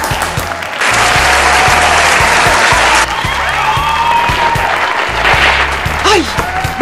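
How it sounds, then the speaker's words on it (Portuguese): Studio audience applause at a Brazilian comedy stand-up show greets an introduced guest, a dense steady clapping wash running under loud rhythmic music and occasional voices for about seven seconds. "Uma salva de palmas para ele"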